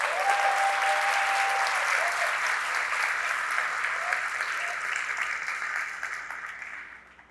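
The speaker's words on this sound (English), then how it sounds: "How about a round of applause for the folks that led the workshops yesterday?" A large conference audience at a keynote gives sustained applause, a broad, even roar of clapping that holds steady and then fades out at the end.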